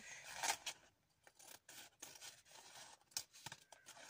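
Scissors trimming small strips of paper or fabric for a handmade scrapbook album, giving a few quiet snips and rustles with pauses between cuts, close by and soft.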